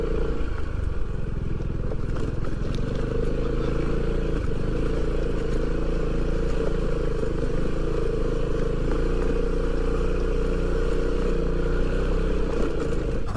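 A motorcycle rides off-road on a rough track, engine rumbling loud and close with uneven throttle, clattering and rattling over bumpy ground throughout.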